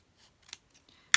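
Scissors snipping paper scraps for making faux stamps: a few faint, brief cutting snips spaced apart, followed by a louder crisp crunch at the end, close and alone.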